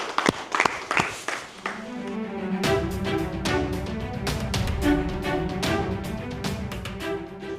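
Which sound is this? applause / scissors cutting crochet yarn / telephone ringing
applause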